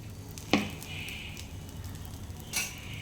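A chapati frying on a pan in homemade ghee, a steady soft sizzle with two sharper crackling spurts as the bread is handled, close and alone with no talk.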